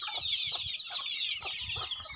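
Gamecock hens on a Filipino farm clucking in short repeated bursts, moderately close, with a steady high background hiss and no talking.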